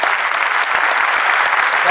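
Loud, dense audience applause for a guru's talk in Chandigarh, a steady close wash of many hands clapping with no break.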